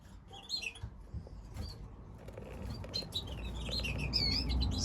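Goldfinches and canaries chirp and tweet in a breeding cage, bright intermittent calls sounding close against a low rumbling background, with no voices.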